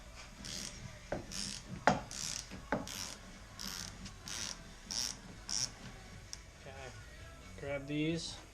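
A ratchet loosens door bolts on a CF Moto with a series of quick, close clicking bursts and metallic ticks, spaced irregularly, while a person talks softly underneath.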